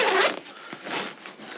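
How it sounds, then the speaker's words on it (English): Zip on a Bergans rucksack pulled open in one continuous rasping run, close and clear, with a brief pause and a second slower stretch of zipping. "That zip"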